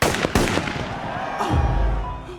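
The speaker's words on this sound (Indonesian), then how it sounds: "Ray pun sontak ditembak" A gunshot in a film scene, one sharp loud crack near the start with a second burst just after, followed by a low rumbling boom and lingering dramatic tail.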